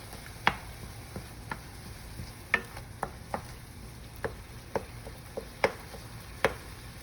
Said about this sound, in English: Now let's give this a stir.